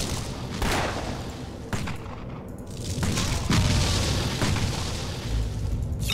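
TNT trap exploding in the Torchlight video game, a deep boom with rumbling bursts and scattered blasts layered over busy game noise, loud and close across the whole stretch.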